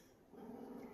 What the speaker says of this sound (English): Who's growling under the table? I have dogs under the table.